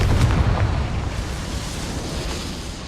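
A fire blast spell explodes in Hogwarts Legacy as a deep, rumbling boom that fades slowly over a few seconds.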